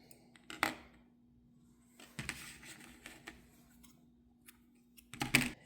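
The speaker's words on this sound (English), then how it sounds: "and cut your yarn" Scissors snipping crochet yarn, a few short sharp clicks and cuts spaced out over near silence, close and fairly quiet.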